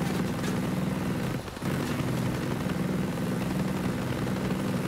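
A helicopter in the video game Ghost Recon Breakpoint drones with a steady low rotor thrum and engine whine throughout. There is a brief dip near the middle and no talk over it.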